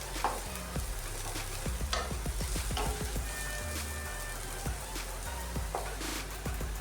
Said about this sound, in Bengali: আলু আর পেঁয়াজগুলো ভালোভাবে ভেজে নেব আরও খানিকক্ষণ ধরে